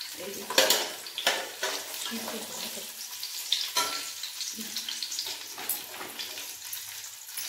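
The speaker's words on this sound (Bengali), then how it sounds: "আর এখানে বাদামগুলো ভাজা চলছে।" Nuts fry in ghee for basanti pulao, a steady close sizzle broken by repeated scraping and stirring strokes, with faint running water at moments.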